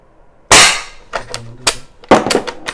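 A toy lever action rifle fires with a loud, sharp cap-like crack, then the lever works with clicks and rattles as shells eject, followed by another sharp shot and mechanical clatter, all close by.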